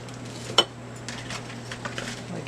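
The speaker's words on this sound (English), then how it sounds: "I'll give that a stir." A utensil clinks once against a skillet of seasoned garlic and herb potatoes, then soft scraping and a faint sizzle follow. The sounds are quiet and close, with no voices.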